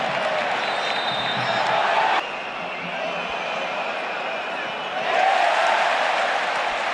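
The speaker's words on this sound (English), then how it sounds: "Another huge cheer as Gerard Martin went to 0-0." A stadium crowd roars and cheers throughout a Barcelona vs Real Madrid match, swelling louder toward the end, with a commentator's voice running beneath the broad wash of noise.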